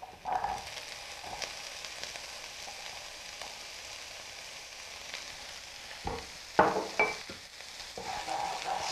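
Chopped red sweet pepper is stirred around in a hot pan, sizzling steadily with a few scraping utensil clicks and louder stirring bursts near the end, close and alone without talk.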